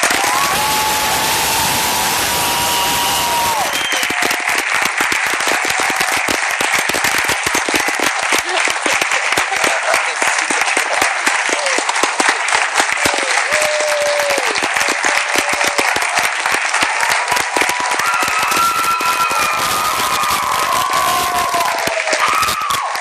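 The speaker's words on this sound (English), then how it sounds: "Let's give them a round of applause." A crowd applauds and cheers for Evergreen Valley College's Fall 2012 nursing graduates: loud, sustained clapping with whoops and shouts running throughout, dense and close, lasting over twenty seconds.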